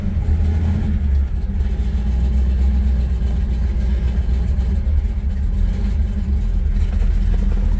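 A cold 1970 Chevrolet Nova SS 396 with its original numbers-matching big-block engine idles steadily nearby, a loud, constant low rumble with no other sounds over it.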